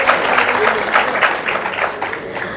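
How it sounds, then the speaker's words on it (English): An audience at the Jaipur Literature Festival's Mughal Tent claps steadily, a dense patter of many hands applauding together at moderate volume, sustained throughout. "That deserves the applause."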